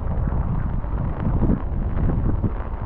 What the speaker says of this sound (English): Oh, getting windy now.